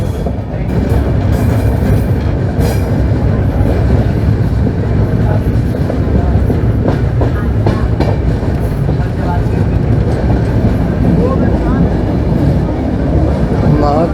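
The MAS-LTT SF Express runs on a mountain railway near Lonavala, a loud, continuous rumble with rhythmic clickety-clack of wheels over rail joints and occasional screeches, heard from inside the moving train.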